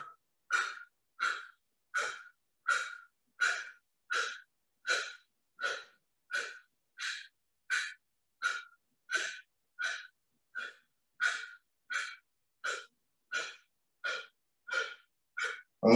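Heavy rhythmic breathing during a core conditioning workout, about twenty sharp forceful breaths pumped out at a steady pace of roughly one every 0.7 seconds, close and alone with no talk.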